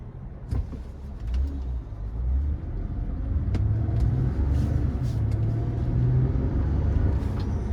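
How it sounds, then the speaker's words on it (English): A 2012 Toyota Camry V6 front-wheel-drive sedan driving on the road, with a steady low engine rumble and road noise inside the cabin and occasional faint clicks. "2012 Camry V6 front wheel drive."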